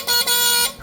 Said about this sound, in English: This thing has a horn on it.